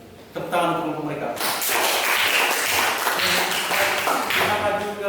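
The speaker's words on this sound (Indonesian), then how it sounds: "Terima kasih dan tepuk tangan untuk kelompok mereka." A classroom of students claps for a presenting group, a dense burst of hand claps that starts abruptly near the beginning and continues steadily and loudly to the end, with some voices mixed in.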